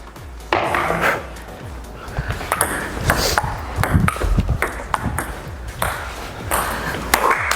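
Ping-pong ball knocked back and forth in a table tennis game, a steady run of sharp, bright clicks off paddles and table at close range, with a few voices murmuring in the background.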